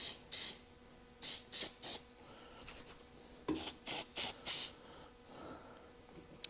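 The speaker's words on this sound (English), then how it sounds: "I'm just going to use some of this adhesive spray kind of hold these together a little bit." Adhesive spray from an aerosol can hisses onto padding for new bucket seat covers on a Buick Skylark, in short sharp bursts grouped in threes and fours with quiet gaps and faint rustling between them.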